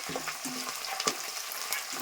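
Dry red chillies frying in tempering oil, a soft close sizzle with a few light stirring clicks and taps, fairly quiet throughout.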